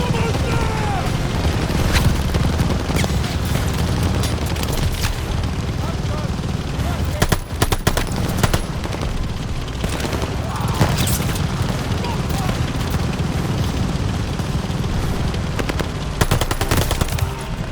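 Sustained machine gun fire in Call of Duty: Vanguard, a dense, loud, continuous rattle of bursts and gunshots with heavier booms mixed in, under shouted battle voices.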